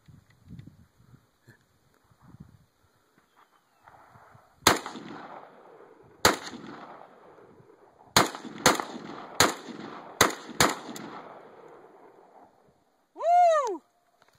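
Several AK-74 rifle shots ring out outdoors as sharp, loud single cracks spaced a second or two apart, with quiet gaps and faint background sounds between them.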